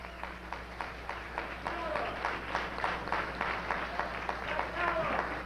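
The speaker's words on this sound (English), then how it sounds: "let's give him a warm round of applause" Scattered applause from an audience welcoming Kwame Toure, moderately distant and uneven, with a voice speaking over the clapping and a low hum underneath.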